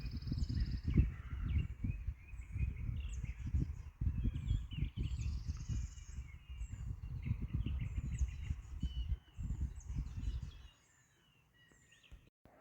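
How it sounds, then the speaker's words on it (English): Birds call and chirp in the distance over a low rumbling background, with a crow-like caw among them, fading to quiet at the end. "awesome sounds of the birds this morning."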